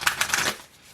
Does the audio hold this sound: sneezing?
no